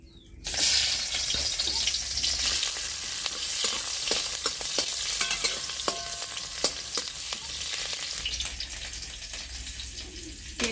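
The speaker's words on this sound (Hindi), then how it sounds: "प्याज फ्राई हो रहा है" Onions fry in mustard oil in a hot kadhai, giving a loud, steady sizzle with frequent clicks and scrapes of stirring throughout, alone without any talk.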